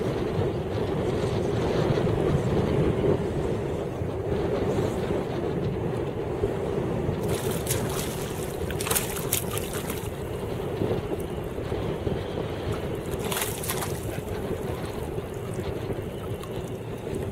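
Wind gusting over open water while kayak fishing, a steady roaring rumble of microphone buffeting with a few sharper gust bursts, loud and constant with no talk.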